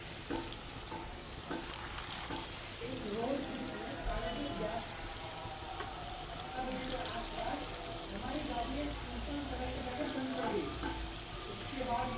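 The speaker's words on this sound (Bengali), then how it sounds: "কড়াইয়ে তেল গরম হয়ে গেছে এখন আমি এক এক করে দিয়ে দিচ্ছি" Spiced potato pakoras frying in hot oil in a kadai, giving a steady, dense sizzle and crackle throughout, close and continuous.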